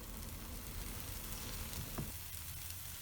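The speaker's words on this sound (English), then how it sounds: "Now let the chilla roast on medium flame." An oats and veggie chilla roasts in oil in a pan over a medium flame, giving a steady, soft sizzle and crackle close by with no voices.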